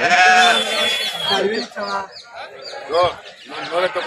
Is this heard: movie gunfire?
no